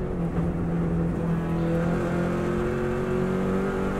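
A Subaru WRX STI races flat out on the Isle of Man road course in third gear, its engine a loud, continuous, close-up drone with steady rising tones and no voices.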